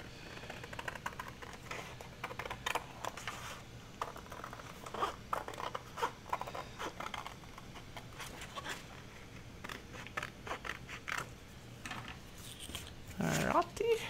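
Scissors trim a junk mail envelope belly band with scattered short paper snips and rustles, fairly quiet and close, in irregular bursts.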